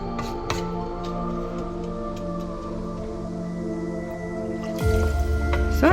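Water poured into a pan of vegetable semolina (vermicelli) for a Tamil-style dish, a steady fill under a low ringing hum, ending in a louder sloshing splash near the end.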